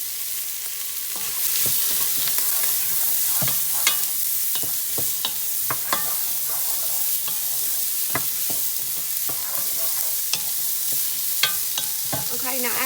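Diced whole onion frying in a pot for a Southern cheddar bacon potato soup, a steady close sizzle broken by repeated sharp scrapes and clinks of stirring, with no talk.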